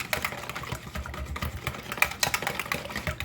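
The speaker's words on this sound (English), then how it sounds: "I'm going to whisk this together" Cornbread batter being whisked in a bowl, a busy run of quick, close clicking and tapping strokes with a few louder knocks, steady throughout with no talking.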